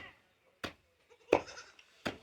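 A goat bleating outdoors in rural India, three short separate calls spaced across a couple of seconds, fairly close and moderately loud, with a quiet background in between.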